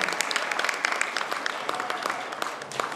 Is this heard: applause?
yes